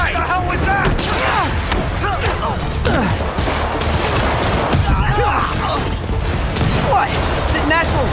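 Rockets are launched and burst in rapid succession during a Marvel's Spider-Man battle, a dense, loud barrage of booms, shattering debris and crackling blasts that never lets up, with voices shouting over the chaos.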